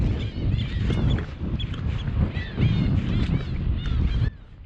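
Gulls, water birds and other birds call at once on a small island, a busy chorus of honking and chattering cries over a steady outdoor rumble, loud and close.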